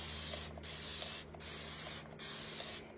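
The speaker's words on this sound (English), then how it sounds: "So what we're going to do is we're going to spray this" Liquid cleaner sprayed onto a chalk stencil in three long, steady hisses, each about a second, separated by short pauses, close and fairly loud over a low background hum.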